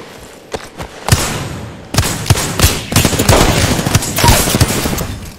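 Rapid gunfire in the video game Apex Legends: sharp, loud shots in irregular bursts, some single cracks and some quick volleys, close and punchy over a busy game backdrop.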